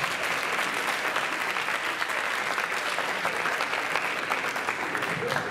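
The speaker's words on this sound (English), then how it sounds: "Let's give him a round of applause." An audience at a 2023 Madison High School graduation party applauds steadily and densely for about five seconds, a continuous wash of many hands clapping at even loudness with no pause.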